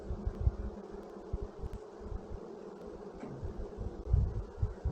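A dense, steady drone of honeybees being moved from a nuc into a brood box, a close, continuous buzz with low rumbling handling noise and no talking.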